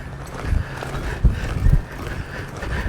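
A reining horse lopes circles on a loose rein, its hoofbeats landing as soft, muffled thuds with two stronger footfalls, under steady outdoor wind noise.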